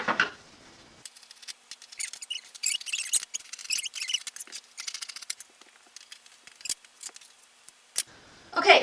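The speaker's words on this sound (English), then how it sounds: "Now I'm going to cut." Scissors slice through fabric for a shark costume, a string of crisp snipping and rustling cuts in uneven bursts, close and clear against near silence, with a brief soft voice at the start and end.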